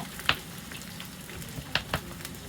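Onions frying in a pan for chicken jalfrezi, a soft, low sizzle with a few brief clicks and stirring scrapes, no talking.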